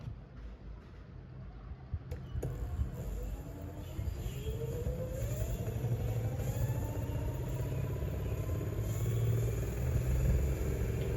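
Electric skateboard motor whirs up to top speed, its rising whine climbing steadily over a low rumbling hum, then easing as regenerative braking slows it, close and fairly steady throughout.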